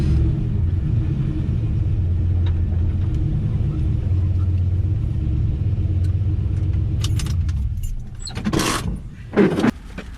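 Deep, steady rumble of a 600 HP pickup truck engine idling while parking in a grocery store lot, loud and close, settling near the end as the motor cuts and a few clunks and rustles follow.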